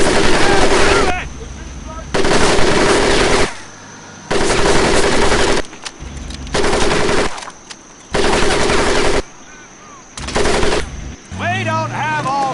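Machine gun fire in Medal of Honor: Pacific Assault: loud sustained bursts, each about a second long, repeating at regular intervals with brief gaps between them, close and dominant.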